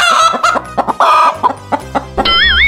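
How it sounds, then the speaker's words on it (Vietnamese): A hen clucks loudly and close in a quick series of short, choppy calls, then gives a longer drawn-out cackle, with no voices present. "Gà mái."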